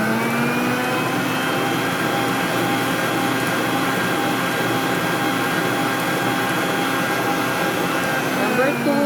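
An electric mixer creams batter at speed 3, its motor giving a loud, continuous whirring whine with steady tones and no pauses.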